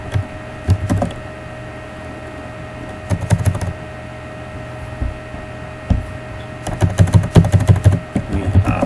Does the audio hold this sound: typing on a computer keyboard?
yes